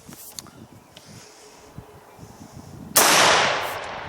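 An AR-15 rifle loaded with 7.62x39 steel-cased Russian 124 grain full metal jacket ammunition fires one loud, sharp shot after quiet handling clicks, and the report rings out and fades.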